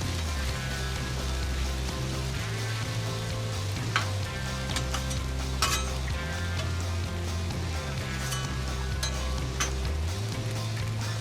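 Onions and peppers sizzle steadily on a Blackstone flat-top griddle for corned beef hash: a continuous close hiss with faint crackles, over a low steady tonal hum, with no talking.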